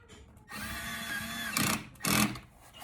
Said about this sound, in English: All we have to do now is put the negative side back on, tighten this bolt.